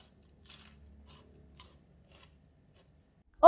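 Crispy fried fish coated in sesame seeds is bitten and chewed close up, with a few soft crunches early and a sharp loud crunch at the end amid near silence.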